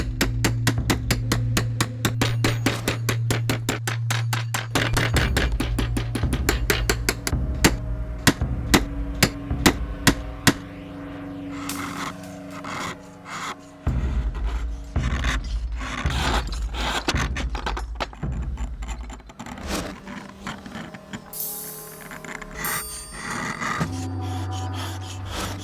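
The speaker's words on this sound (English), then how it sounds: "A chisel and shovel will be used to trim the shape of the inkstone" Chisel and shovel trimming the shape of a Xi inkstone, with rapid metallic tapping and knocking strikes, then scraping and rasping strokes against the stone, close and continuous.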